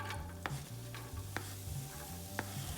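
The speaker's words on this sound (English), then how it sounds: "we're just gonna saute these until they turn translucent" Finely chopped onions sauteing in olive oil, a soft, steady sizzle close by with a few sharp utensil taps and stirs scattered through, with no talking.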